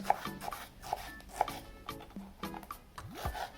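A knife chops finely through tomatoes for Lebanese tabouli, giving a steady series of crisp taps on the board with soft rubbing, scraping strokes between them, close and clear with no talking.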